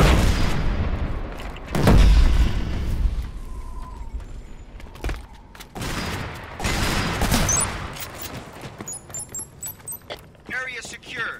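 Frag grenade blasts and rapid gunfire in the Killzone Shadow Fall multiplayer match on The Divide, heavy booms and bursts of shots mixed with mechanical clatter and game voice callouts.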